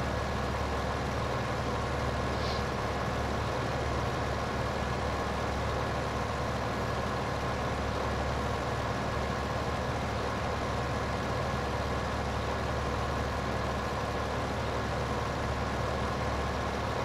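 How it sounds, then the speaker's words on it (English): Tractor engine in Farming Simulator 15 on the Dakota Plains map, a steady low drone running continuously with no break and no talk over it. "There's just something about the road that slows this tractor down."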